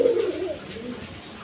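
An Arabian pigeon gives a brief, soft cooing call close by, a low throaty burst that trails off quickly.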